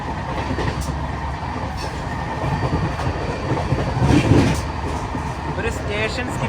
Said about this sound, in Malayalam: ട്രെയിൻ ഇപ്പോൾ 110 km/h സ്പീഡിലാണ് പോയിക്കൊണ്ടിരിക്കുന്നത്